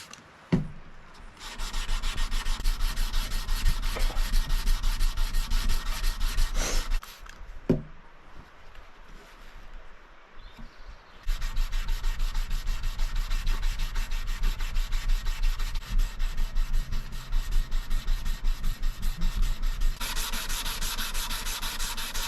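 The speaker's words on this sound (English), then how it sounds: "We're gonna start with 220 grit hand sand" Steady back-and-forth rasping of 220 grit sandpaper worked by hand over a Damascus steel knife blade, close and continuous in long strokes, with a few brief pauses between passes.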